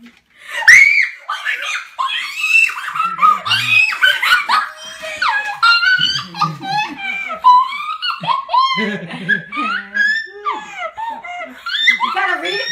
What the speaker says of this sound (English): You gotta read it before you scream your brains out.